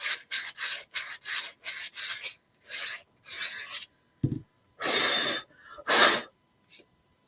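Rhythmic rasping strokes of sanding on wood cutouts, about a dozen quick back-and-forth passes with short pauses, close and fairly loud, no talking.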